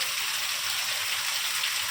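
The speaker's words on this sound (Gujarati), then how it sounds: "ફૂલ વરસાદ આવે અત્યારે" Heavy rain pours down in a steady, dense hiss that stays constant and loud throughout, with no voices over it.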